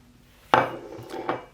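Flour, salt and seeds mixed by hand in a large bowl for samosa dough, one sharp clatter against the bowl followed by a few softer scrapes and knocks, close and brief.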